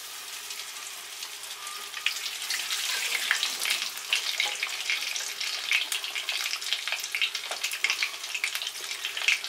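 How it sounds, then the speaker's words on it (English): Breaded Spam fillets fry in a pan with a steady, close sizzle and crackle, with spitting pops that build slightly over time and no talk. "then I'll just carry on egging those up, breading those up, and then adding them to the fry pan"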